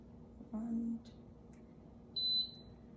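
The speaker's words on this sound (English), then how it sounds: "And it's gonna beep, and the color will be orange." Two short electronic beeps from a Levo gummy infusion machine, one early and one later, the second a clear high tone, over a low steady hum with faint background noise.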